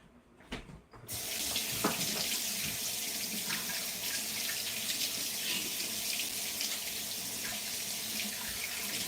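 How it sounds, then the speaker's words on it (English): Tap water runs steadily into a kitchen sink as dough is washed off hands while Jamaican fried dumplings are being made, a continuous close splashing hiss that starts after a brief quiet moment. "let me just wash my hands"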